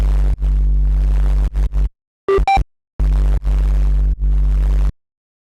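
An experimental synthesized noise bass patch plays a loud, buzzing sustained low note that cuts in and out in choppy bursts, broken by a brief bright pitched stab in a short gap before the droning bass returns.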